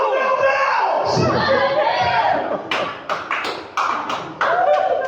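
A lone person claps in a loud church service, a few sharp separate hand claps standing out from the second half over a shouting preacher and a noisy congregation.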